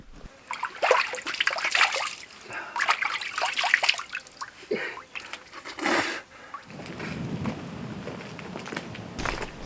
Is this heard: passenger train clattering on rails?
no